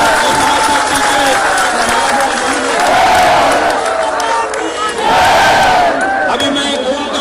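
Large outdoor protest crowd clapping in support, loud and continuous, mixed with cheering and shouted voices that swell and dip across the stretch.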